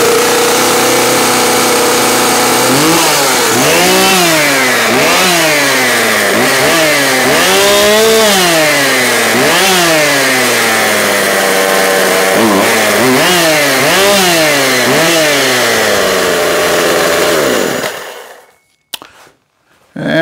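A Husqvarna 142 chainsaw with a newly replaced carburetor runs loud and close, revving repeatedly in rising and falling surges between a steady buzzing idle before cutting off abruptly near the end.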